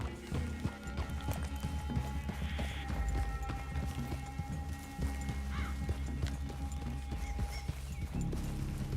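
Horses moving in a video game, with steady clip-clop hoofbeats trotting over ground and a faint whinny, a moderate continuous rhythm beneath a low rumbling game soundscape.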